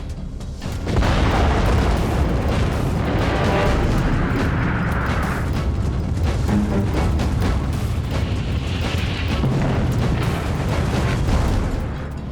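A massive nuclear bomb explosion roars and rumbles continuously, a loud, sustained blast with deep booming and crackling debris that fills the whole stretch.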